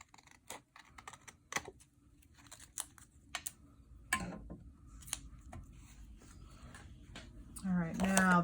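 Cardstock for a handmade card gets trimmed at a tabletop, with scattered crisp cuts and paper handling close by, quiet overall, and a voice speaking near the end.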